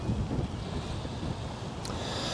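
Steady wind at about 17 mph buffets the microphone outdoors beside a Hilleberg Unna four-season tent, a continuous low rumbling roar with no pauses, heavy at first and then holding level throughout.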